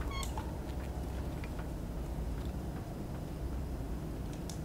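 An invisible pet cat in the video game The Secret World gives a faint meow at the start, followed by a few soft scattered chirps over a steady low game ambience.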